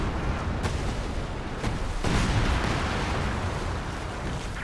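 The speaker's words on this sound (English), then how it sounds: "And there's the 105 artillery from pomDomz." Artillery fire from 105mm guns in Company of Heroes 2 during a 2v2 match, heard as dense, sustained booming and crackling bursts with a few sharper impacts standing out from the continuous battle din.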